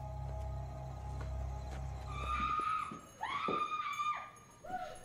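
Shrill, wavering screams ring out from inside a motel front office in a horror film, several rising and falling cries in quick succession. A low hum fades out just before the screams begin.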